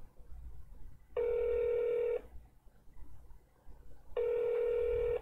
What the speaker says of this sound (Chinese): 我打这一支看看，看郭老师、郭姐方不方便接电话哈？